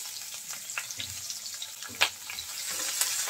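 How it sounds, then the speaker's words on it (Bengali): Whole cumin, chopped onion and green chilli sizzle in hot oil for a long bean and potato curry. The frying is soft and steady, with a few sharp spatters and utensil clicks and no voices. "এখন এই তেলের মধ্যে দিয়ে দেব আস্ত জিরা, ছোট্ট একটা পেঁয়াজ কুচি করে নিয়েছি, কাঁচামরিচ দিয়ে দেব।"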